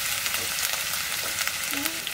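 Onion paste frying in soybean oil gives a dense, steady sizzle as it is stirred, close and continuous with no voices.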